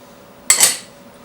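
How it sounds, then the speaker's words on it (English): A single short clink of a utensil against a bowl while an egg and Marsala wine are mixed into cannoli dough, one bright, sharp knock that fades quickly against a quiet kitchen background. "And then you're going to just mix that up until it makes a nice dough."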